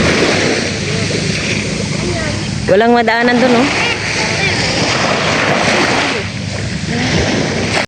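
Wind buffets a boat out at sea over rough water at high tide, with a steady roar of waves and gusts close to the microphone, and someone speaks briefly partway through.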